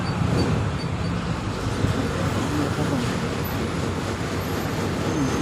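Steady low engine rumble and road noise from inside a Bangkok red city bus riding along Phetkasem Road toward Bang Khae in cool season, a continuous broad roar with no distinct events.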